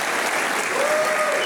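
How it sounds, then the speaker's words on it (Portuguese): A church congregation applauds warmly as a guest named Ana is welcomed and rises, steady dense clapping filling the room throughout with a faint tone running beneath near the end. "Pode aplaudir. Fica em pé,"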